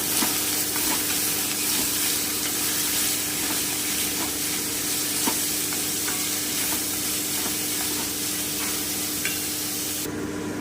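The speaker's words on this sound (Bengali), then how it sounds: "এবারে আমি গাজরটা দিয়ে দিচ্ছি মিনিট ভেজে নেব" Carrots for vegetable chop fry in a pan with a steady, dense sizzle and hiss throughout, with faint occasional clicks and stirring, close by and without speech.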